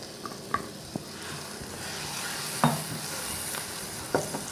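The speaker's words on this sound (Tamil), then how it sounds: "இதுவும் கொஞ்சம் பச்சை வாசனை போகிற அளவுக்கு நல்லா ஒரு முறை வதக்கி விட்டுடலாங்க" Ground tomato paste being sautéed in hot oil for okra tamarind kulambu, a steady soft sizzle with occasional spoon stirs and clinks against the pan, close and alone without talk.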